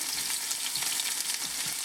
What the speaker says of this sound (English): Throw all my onion in there.